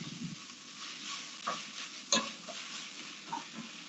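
Onions fry in a pan with a steady low sizzle, broken by a few soft stirring scrapes and one sharper clink, with no talk.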